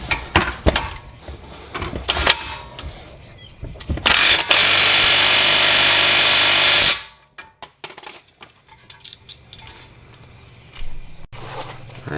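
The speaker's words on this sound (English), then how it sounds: "go ahead and tighten up the bolts to spec." A power tool tightens brake bolts on a Nissan Altima, one loud continuous whir of about three seconds between clanks and rattles of tools and parts nearby.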